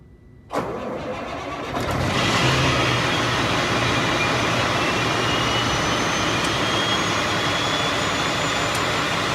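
A Freightliner truck engine cranks and fires about half a second in, then settles into a loud, steady diesel running note that rises a step near two seconds as the truck is shifted into reverse, with faint high whines above.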